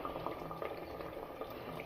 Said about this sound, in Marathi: अर्धा ग्लास पाणी टाकलं ना लगेच बॉइलिंग चालू झाले